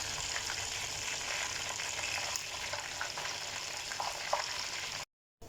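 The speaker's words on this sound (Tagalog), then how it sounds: "And then we cook now. So guys, this is our fried chicken." Marinated chicken fries in a pan with a continuous close sizzle and crackle, a few louder pops standing out, and no one speaking over it.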